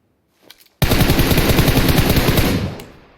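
A rapid burst of automatic gunfire in a multiplayer shooter video game, one sustained loud volley of about two seconds after a brief faint click, then fading out.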